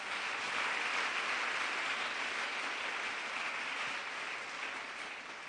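A church congregation claps hands in praise during a prayer service, a dense, continuous wash of applause that holds steady for several seconds and then begins to fade slightly.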